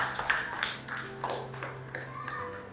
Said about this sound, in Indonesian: Ayo tepuk tangan untuk kelompok 2.